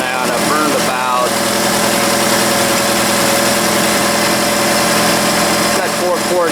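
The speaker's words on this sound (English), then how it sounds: "I've been running this engine a good while now" Rumbling idle of a 1982 Chevrolet Camaro third-gen engine, first run in 20 years with a fuel cell, steady and loud up close with vibration, while someone talks over it.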